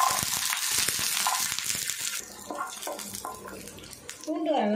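Ten garlic cloves frying in hot oil in a pan over a low flame, giving a loud bubbling sizzle at first that eases off, with a voice coming in near the end.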